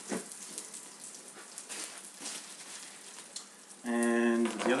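An egg fries in butter in a pan with a soft, crackling sizzle and bursts of spatter. Near the end, a loud tonal voice or hum cuts in over the frying.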